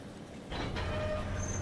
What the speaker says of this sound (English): Get in the train.